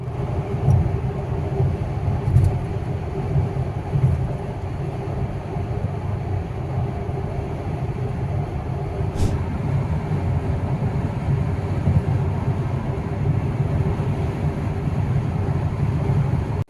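Steady low road rumble from a Tesla Model X driving along on a long highway trip in France, continuous and even throughout with no talking.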